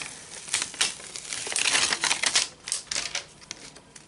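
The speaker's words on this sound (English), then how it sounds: "we're just going to peel off slowly the backing piece" A clear adhesive craft piece has its backing sheet peeled off slowly, giving close, crackly crinkling and ripping in uneven bursts over a few seconds, with no talking.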